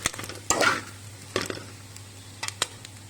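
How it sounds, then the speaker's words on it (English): Beef frying in oil in a kadai, heard as soft sizzling broken by several sharp stirring scrapes and clinks, close and fairly quiet. "We have poured almost 5 tablespoons of oil into a kadai for frying the beef."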